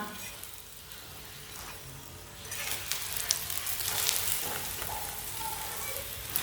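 A radish paratha fries on the stove with a soft hiss that swells into a louder, crackling sizzle partway through, suggesting it was flipped, heard close and alone.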